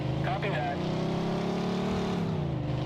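A car engine in Mafia II drones steadily at speed, its hum and road noise continuous throughout, with a brief voice heard over it near the start.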